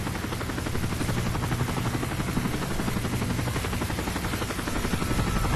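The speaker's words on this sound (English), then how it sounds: "We'll wait for the helicopter to pass." Helicopter from the video game Call of Duty: Modern Warfare 3, a loud, steady rotor drone with rapid blade chop holding at full strength as it passes close by, with no talk over it.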